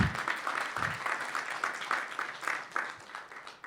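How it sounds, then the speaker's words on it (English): A college audience at the BMCC State of the College 2023 address gives a modest round of applause, a soft steady clapping with distinct rhythmic claps that gradually fades toward the end. "That was a cue for a round of applause."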